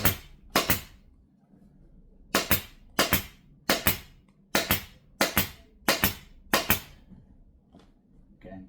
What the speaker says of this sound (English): Now the seat will get stapled in on this same part of the rail.